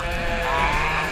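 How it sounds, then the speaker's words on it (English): Sheep bleat steadily at close range as a flock is readied to be moved back to pasture on a farm, layered voices overlapping into a continuous chorus with no pauses. "we are getting ready to move the sheep back to their pasture"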